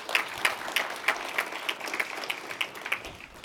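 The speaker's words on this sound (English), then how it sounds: "So please give John Zaramsky a round of applause" Sparse, scattered clapping comes from a conference audience at a CES Government event, with individual hand claps popping out of a thin background of applause for a few seconds.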